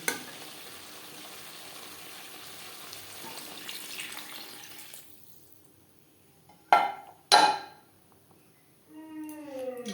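Water is poured into a pan where potatoes are frying with spices for a rohu fish curry, cutting a steady sizzle into quiet, with two sharp splashy bursts and then a voice speaking.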